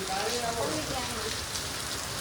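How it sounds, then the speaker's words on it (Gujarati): Dense, steady rainfall pattering hard on surfaces, an even hiss with a faint voice underneath. "વરસાદ કાંઈ ઘટે નહીં ભાઈ"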